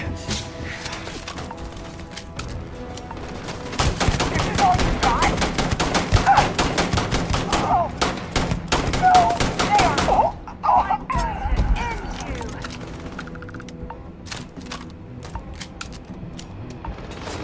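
Gunfire in the video game Starfield, with rapid bursts of shots and machine-gun rattles crackling densely for several seconds, then thinning to a few scattered reports and clatter.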